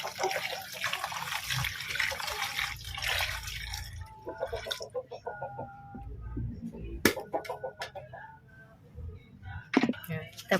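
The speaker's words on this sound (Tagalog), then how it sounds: "Tapos, dadagdagan natin ng tubig." Water runs and splashes into a basin prepared for pet goats, a steady rushing pour that breaks into drips, with a rooster crowing nearby and faint farmyard voices.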